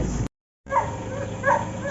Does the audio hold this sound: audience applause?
no